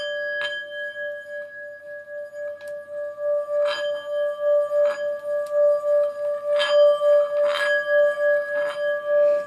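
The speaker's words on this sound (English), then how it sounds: "so let's ring my bell" A sustained, pure bell tone rings steadily and pulses rhythmically, with scattered light clinks and taps sounding over it.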